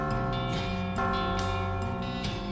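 Bells ring in the video game West of Loathing, clear overlapping tones struck several times in succession and sustained with a rich, ringing resonance, steady and fairly loud.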